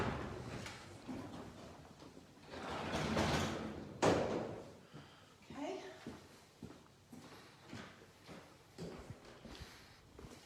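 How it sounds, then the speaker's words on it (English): Barn doors at a wedding and event venue are pushed shut, a loud sliding rumble and thud, followed by a few lighter knocks and footsteps as a person talks nearby. "Okay, I'm going to shut these doors again to stop the wind coming in."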